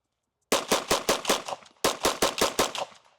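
Two rapid strings of gunshots from Pilgrim ammunition on a firing range, each burst five or six sharp, loud reports in quick succession with a brief pause between the bursts, and no talking.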